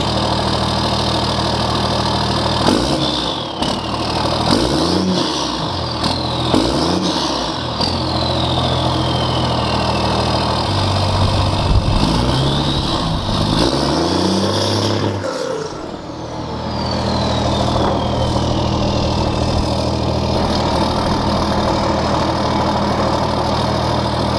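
A 12-valve Cummins diesel fitted with a zero fuel plate runs steadily at a loud, close idle, with several short revs rising and falling over the constant rumble.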